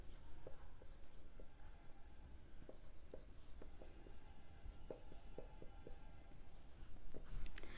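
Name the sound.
writing on board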